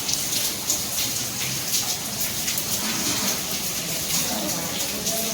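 The first rain of the rainy season falls steadily in Hyderabad, a dense, continuous hiss of drops on surfaces, loud and close, with no gaps.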